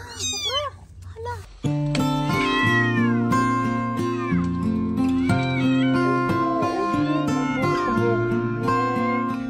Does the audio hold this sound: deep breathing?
no